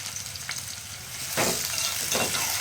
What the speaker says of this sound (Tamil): வெங்காயம் நல்லா சேர்த்து ஒரு நல்லா ப்ரௌன் கலர் வரைக்கும் நல்லா மிக்ஸ் பண்ணி எடுத்துக்கலாங்க